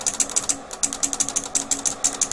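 A relay inside a Korad bench power supply switching transformer taps clicks in and out rapidly, making a steady run of about twenty sharp, close mechanical ticks with no talk.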